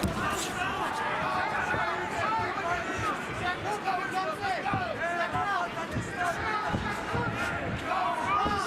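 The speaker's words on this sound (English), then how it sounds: "Partisan crowd providing the extra fuel with chants of Benson." Partisan arena crowd at a Bellator MMA fight chanting for the fighter during the third round, a loud sustained roar of voices and rhythmic chants with commentary-like speech over it throughout.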